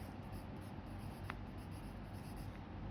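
Faint chalk or marker scratching on a classroom board during a lesson, soft continuous strokes under a steady background hiss, with no talking.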